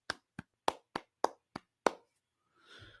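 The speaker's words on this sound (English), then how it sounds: "A little golf clap for you." A short, sparse golf clap from one person: seven separate, soft hand claps at a slow, even pace, close and alone, followed by a faint rustle.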